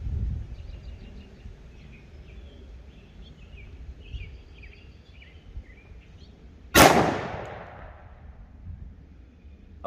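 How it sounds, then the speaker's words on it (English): A single sharp 10mm pistol shot from a Springfield XDM Elite fitted with a Holosun 507C red dot, fired outdoors at a range, with a loud crack and trailing echo against quiet background with faint birdsong. "we have 5 rounds loaded up to go through the Springfield XDM Elite with a Holosun 507C"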